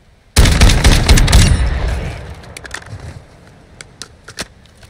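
A KV Broadside shotgun fires in Warzone 2 from 10 meters: one loud, sharp blast that rolls off into a decaying rumble, then scattered lighter clicks and ticks.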